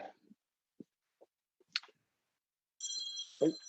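A mobile phone rings in a quiet meeting room: a short, faint electronic ringtone with steady high tones starts after a few scattered soft clicks and ends with a brief thump.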